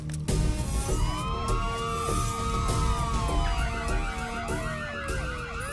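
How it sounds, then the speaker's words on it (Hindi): A bank alarm siren wails with long rising and falling sweeps, sounding steadily over a dense low rumble of music or traffic for the whole stretch, with no speech. "बैंक सायरन की आवाज किसी को सुनाई ना दे"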